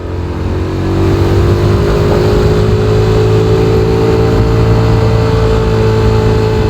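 A car engine climbs a steep hill in second gear, straining in a loud, sustained drone whose pitch slowly rises after the throttle opens early on.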